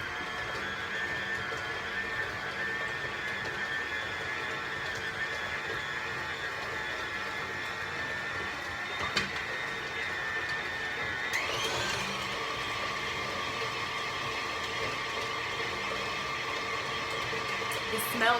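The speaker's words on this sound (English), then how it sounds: "I'm going to mix in our butter and bananas. I'm going to mix it in slowly." Electric stand mixer running at a steady low-to-medium speed, blending butter and bananas into banana cupcake batter. A continuous motor whir fills the room, with a brief change in tone partway through.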